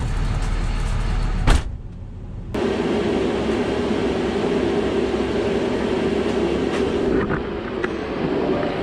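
A shop heater runs indoors in a garage as a steady, loud broadband roar, a continuous fan-and-burner rush that briefly drops out and then resumes.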